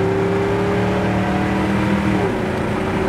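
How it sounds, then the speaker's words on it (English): A 1969 Oldsmobile Cutlass Supreme with dual exhaust accelerates nearby, its engine note rising steadily in a loud, smooth rumbling drone that shifts pitch partway through. "It sounds so nice. It's got a great dual exhaust."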